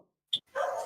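Dogs barking, with one short sharp bark followed after a brief pause by a longer, louder bark or yelp, fairly close and clear in otherwise quiet surroundings.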